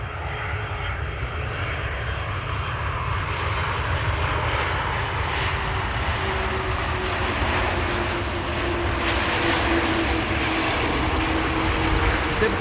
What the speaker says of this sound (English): Typical KLM landing